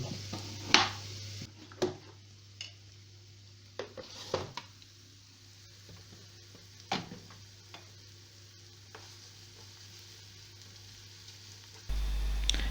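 Chopped onions sauté in a frying pan at home, a soft continuous sizzle under a low steady hum, with scattered clicks and taps of a utensil stirring and scraping, then a louder burst near the end.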